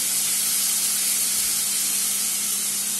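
Garlic sizzling in a hot pan of softened tomatoes for rasam, a steady, loud, unbroken frying hiss with a low hum under it and no talking.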